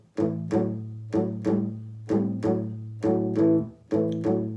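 Electric guitar strummed in a steady blues shuffle rhythm, repeated chord hits with a bouncing swing feel, clear and close, no talking.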